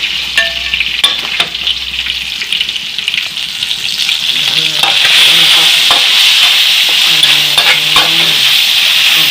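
Pork with garlic frying in a pan: a loud, close sizzle with a bright hiss, while a utensil scrapes and stirs in rapid rhythmic strokes, growing busier partway through, with no talking.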